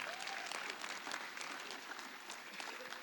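A church congregation in Kimberley applauds warmly for a visiting group, a steady wash of many hands clapping at moderate volume, even and sustained with no talk over it.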